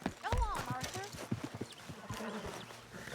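Horse hooves clop steadily alongside a short whinny in the Red Dead Redemption 2 game world. A voice talks over the nearby footfalls.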